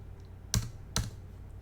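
A computer keyboard gives two sharp, quiet key clacks about half a second apart, close by in a hushed room, with no talking.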